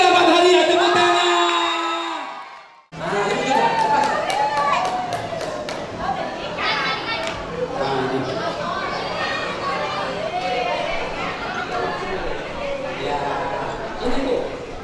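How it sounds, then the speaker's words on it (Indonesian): At a birthday party, an audience applauds prize winners in a steady, loud wash of clapping mixed with crowd chatter. It follows a few seconds of amplified singing or speech. "tepuk tangan."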